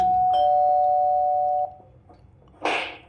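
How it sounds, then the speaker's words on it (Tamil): A doorbell rings with a sustained electronic tone for over a second, followed after a pause by a short burst of rustling noise. "காலிங் பெல் அடிக்கிறது காது கேட்கல"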